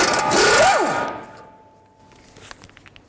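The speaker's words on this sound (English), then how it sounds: "Now I'll take the tie rod nut off. I'm going to use a 22mm socket." A power tool with a 22mm socket spins off the tie rod nut on a 2004-10 BMW X3, a short rising and falling whir that winds down within a second, followed by faint metallic clicks and handling.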